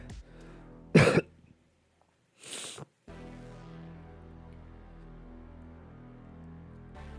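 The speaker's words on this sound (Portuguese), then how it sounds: "Desculpa eu estar tossindo" A person coughs twice, a strong close cough followed by a shorter softer one, in an otherwise quiet room before a low background hum.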